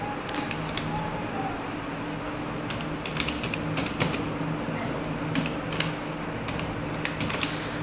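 Keystrokes tapped out on a computer keyboard while a channel name is entered for a Photoshop text reflection edit, a steady run of light clicks with a few brief pauses, close and fairly quiet over a constant low hum.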